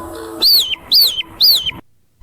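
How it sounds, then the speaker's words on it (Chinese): An AI-generated bird chirp effect plays as three loud, evenly spaced, rising chirps over faint background noise, then stops into near silence. "这个视频加了一个鸟叫的音效。"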